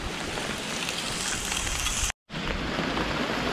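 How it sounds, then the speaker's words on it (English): Heavy rain pours down steadily on Dartmoor at a wild campsite, a dense loud hiss broken by a momentary cut to silence before resuming. "apologies for the noise of the rain"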